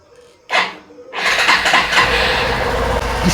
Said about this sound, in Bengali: স্টার্ট হয়ে গেছে, বাইকও কিন্তু স্টার্ট হয়ে গেছে।